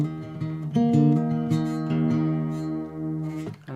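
Fingerstyle acoustic guitar plays a short extension phrase leading from the chorus into the bridge of a song, with plucked notes ringing over sustained low strings, close and steady with no voices.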